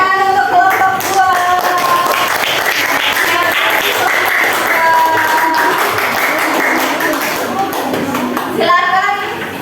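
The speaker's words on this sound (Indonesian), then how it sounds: "beri tepuk tangan untuk kelompok 2." Classroom applause for a student group during a school teaching assessment, a burst of many hands clapping steadily with voices chattering and a teacher speaking over it.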